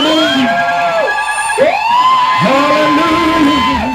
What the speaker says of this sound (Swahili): Fanya shangwe na vifijo na nderemo mbele za Mungu.